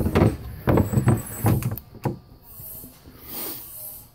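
An appliance garage door in a party bus kitchen slides open with a series of close rattling scrapes and knocks, then settles into a softer hiss as it finishes moving.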